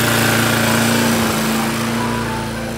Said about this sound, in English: This red push lawnmower is a booster.